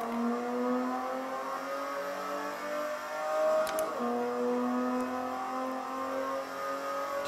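VW Scirocco race car on the Hockenheimring braking, turning in and accelerating out, engine tone dropping then climbing again in steady rising harmonics, close and loud from onboard, with brief clicks of gear shifts midway.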